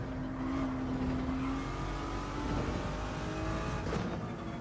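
A race car engine in Gran Turismo 7 drones steadily with a rising whine during a Nürburgring 24-hour race, a continuous mechanical roar without speech.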